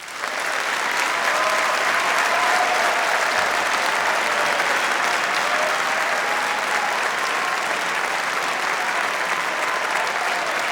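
A large hall erupts in loud, dense, sustained applause during a 2005 State of the City address in Boston, an unbroken roar of clapping from many people.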